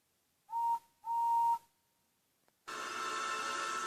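Two clear, sustained steam whistle blasts, the second longer, followed after a pause by a loud, continuous hiss of steam.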